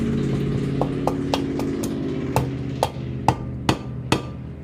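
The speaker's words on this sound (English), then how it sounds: "I'm going to use this dead blow hammer." A rubber dead blow hammer taps a piston into a small engine repeatedly, about ten dull knocks growing stronger, over a steady low engine-like hum in the background.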